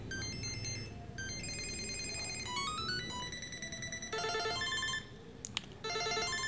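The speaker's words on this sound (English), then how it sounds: "Also you can change the ringtones." A Samsung Galaxy SmartTag plays an electronic ringtone of repeating bright beeping tones that shift between several melodic patterns, loud and steady with no talking.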